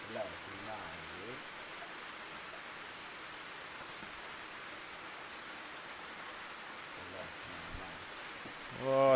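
The first rain of the season falls steadily on a garden, a constant even hiss throughout, with a voice speaking briefly at the start and again at the end.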